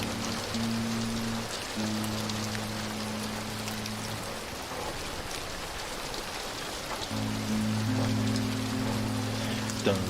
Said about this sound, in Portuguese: Chuva com sol.